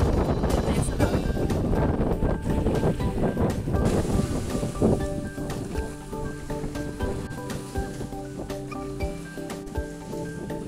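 Ocean waves slapping around a small boat out on open sea, with strong wind buffeting the microphone and a busy, loud wash that thins out partway through.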